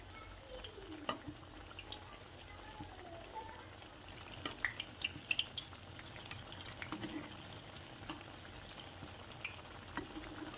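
Bajra flour snacks fry in hot oil with a faint, steady bubbling sizzle and scattered small pops and crackles, heard quietly and without talk.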